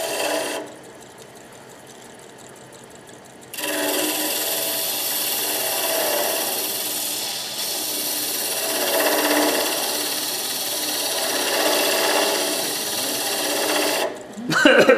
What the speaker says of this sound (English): I'm sanding the pencil marks off, so y'all can't see the pencil marks.